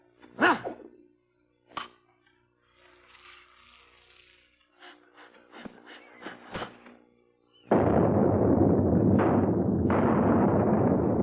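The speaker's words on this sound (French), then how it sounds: "cette arme terrifiante a tonné pour la dernière fois" A gunpowder weapon fires in a 1987 animated cartoon: scattered thumps and clatter lead into a sudden loud, thunderous blast that rolls on as a sustained roar.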